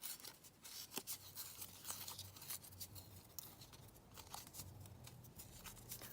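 Paper leaves are torn by hand for an altered book, giving faint, soft ripping and rustling bursts in an irregular rhythm against a quiet room.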